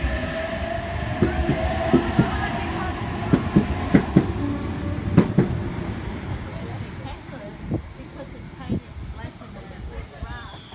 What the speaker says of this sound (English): V42 leading a V-set through platform 1, Sydney service.